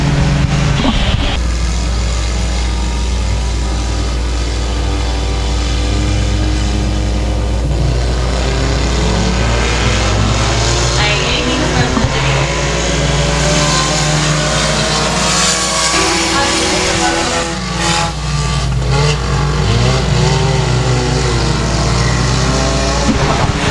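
Race cars at Boothill Speedway roaring around the oval door to door, a loud continuous engine drone with pitch swells as cars pass and accelerate through the turns, filling the whole stretch with no talk.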